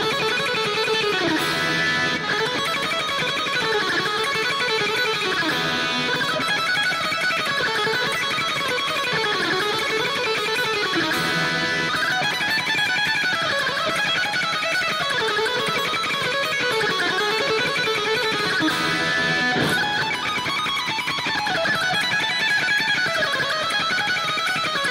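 Electric guitar solo lick, played as a fast repeating pattern of notes cycling over and over, bright and sustained with constant loudness, no other voices.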